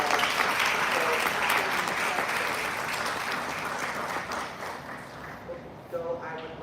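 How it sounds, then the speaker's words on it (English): Audience applause at a live conversation event, with sustained dense clapping from a large crowd that slowly thins and fades toward the end. "Please give them another round of applause."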